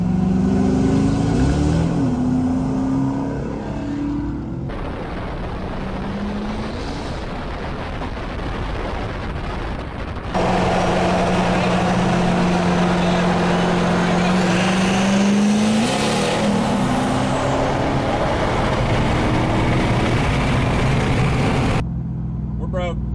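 A 720 hp Ford 6.7 Powerstroke diesel truck drag racing a 700 hp RAM TRX Hellcat, engines roaring at full throttle with rising pitch through gear changes and heavy wind rush, loud and close, with voices heard in between.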